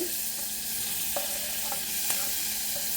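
Chopped onion sizzles in a pan while being stirred for a sauce, a steady faint hiss with a few soft scraping clicks of the spoon, no talking.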